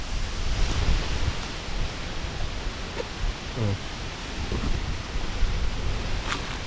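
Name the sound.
strong wind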